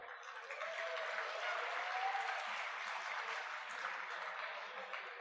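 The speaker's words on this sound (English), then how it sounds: "please join me in giving a huge round of applause to all of our students" Audience at an IIT Bombay institute valedictory function applauding students: steady, dense clapping from a large crowd that starts quickly and holds at an even, loud level throughout, with no speech over it.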